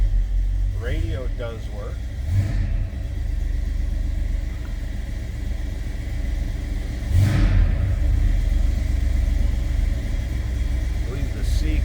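A 1963 Ford Fairlane 500 hardtop's engine rumbles steadily at close range with a couple of light revs, while someone talks over it.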